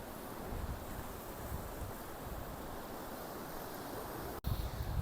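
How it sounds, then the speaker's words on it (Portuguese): Waves break against rocks at Marvila beach in a calm coastal setting bordered by Atlantic Forest, producing a continuous, fairly loud wash of surf and wind noise with a brief dropout near the end. "o som das ondas quebrando nas pedras"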